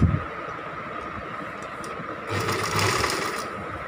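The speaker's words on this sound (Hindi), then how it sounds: "सिलाई शुरू कर लेनी है।" A sewing machine stitches a straight pajami, giving a steady mechanical whir that picks up slightly in loudness partway through, with no talking.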